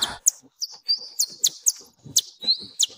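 A person imitates a bird with a series of short, sharp, high chirps and whistles, roughly seven bursts over a few seconds in an otherwise quiet room, close and fairly loud.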